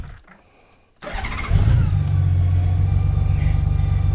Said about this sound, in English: Turn on the bike.